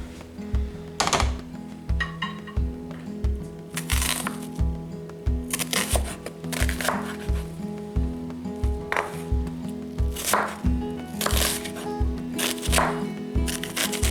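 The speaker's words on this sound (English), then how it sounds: "Okay, so we'll go ahead and start chopping the pepper and onion and all." Knife chopping red pepper and onion on a cutting board for a cheeseburger pot pie, a steady run of close, crisp cuts in quick rhythm with a few heavier chops, with no talking.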